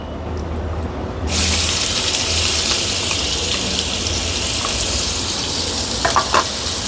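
Crushed ginger, garlic and green chili paste hits about two spoons of hot oil on a griddle pan, bursting into a loud, steady, close sizzle that continues unbroken, with a few faint clinks of stirring near the end.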